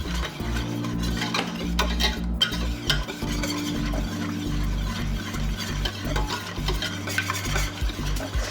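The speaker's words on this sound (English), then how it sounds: "I'm going to give this a little whisk" A whisk works through white cheese sauce for chicken lasagna, giving a continuous close stirring and scraping with soft wet swishes and light metallic clicks.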